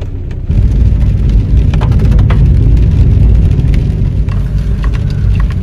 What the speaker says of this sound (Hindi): थोड़ी देर आप लोग बारिश की आवाज भी सुने।